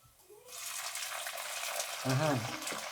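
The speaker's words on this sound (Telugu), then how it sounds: "టమాటాలు అయితే సౌండ్ వచ్చేది" Steady sizzling and hissing of tomatoes frying in a pan, continuous and close, with a brief voice-like sound near the end.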